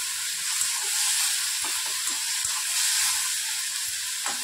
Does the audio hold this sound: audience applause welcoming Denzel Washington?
no